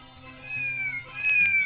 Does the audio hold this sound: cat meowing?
yes